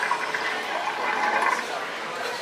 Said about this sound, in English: she made the toilet flush